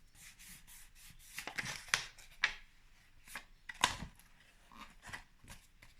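Scissors snip off excess material from a DIY rabbit-head bag craft in a series of short, close, crisp cuts and rustles, quiet and irregular with no talk.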